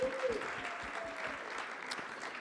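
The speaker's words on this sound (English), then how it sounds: "So round of applause for all of them" Audience applause at a cannabis industry gathering in New York, a steady dense wash of clapping from a crowd filling the room for a couple of seconds, with a brief whistle-like tone early on.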